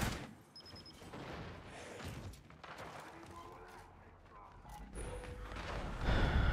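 Sniper rifle gunfire in the shooter video game Gears 5 cracks through a dense, busy game mix with explosions and other action sounds, loud and close.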